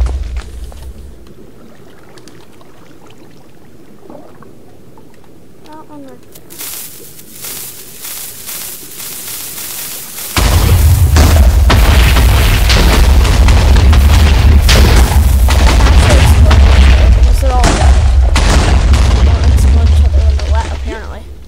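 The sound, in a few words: TNT explosions in Minecraft video game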